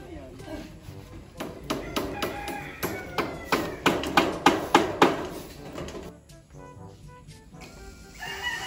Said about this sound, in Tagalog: Parang binabare na po muna, tapos nilalagay yung parang pako.